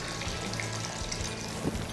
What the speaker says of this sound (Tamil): இப்போ இதில் நம்ம தண்ணி ஊற்றிக்கலாம்.